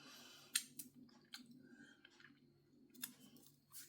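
A homemade sandwich cookie is bitten and chewed close up, giving faint, crisp crunches and clicks in irregular bursts over quiet background.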